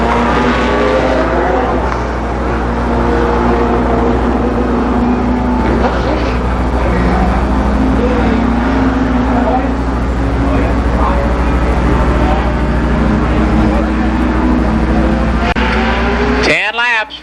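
Late model race cars roar around the Columbus Motor Speedway oval in a heat race, a dense, loud, continuous engine drone with shifting pitch and a voice faintly mixed in, ending in a sharp rising sweep.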